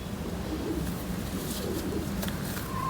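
High-flying pigeons of an old breed coo softly at a distance over a steady background hiss, with faint chirps and a short whistle-like tone near the end.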